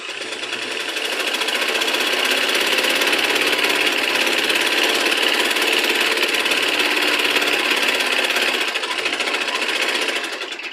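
A sewing machine runs continuously, stitching the side seams of a blouse in a steady, fast mechanical whir that holds from start to finish, close and loud with no talk.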